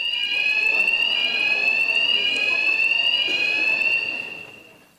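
A loud, piercing electronic alarm played as a joke sound effect, a sustained shrill tone with harmonics that holds steady for about four seconds, then fades out, heard alone without talk.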